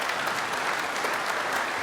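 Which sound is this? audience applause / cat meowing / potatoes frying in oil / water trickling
audience applause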